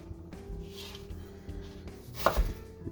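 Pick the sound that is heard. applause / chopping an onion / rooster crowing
chopping an onion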